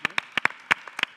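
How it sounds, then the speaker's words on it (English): Audience at a stage event applauding, a short loud burst of scattered, separate claps from a few people close by rather than a full crowd. "A round of applause."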